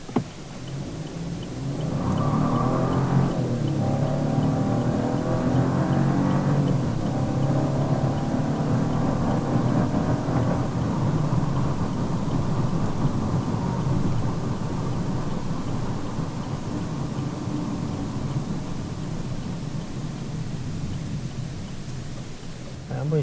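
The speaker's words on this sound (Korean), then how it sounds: "한번 시원하게 쭉 밟아봤는데 시작에 휠스핀이 조금 나네요" A Chevrolet Trax CUV launches at full throttle on a wet riverside road at night, its wheels briefly spinning at the start. The engine roar and tire noise build quickly and stay loud and steady, with road rumble throughout.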